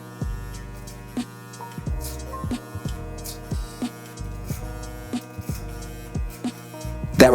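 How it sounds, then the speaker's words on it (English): Electric hair clippers with a guard on trim a front hairline during a home self haircut, giving a steady close buzzing hum broken by frequent short shifts in pitch as the blades move through hair. "just me taking off some hair on the hairline"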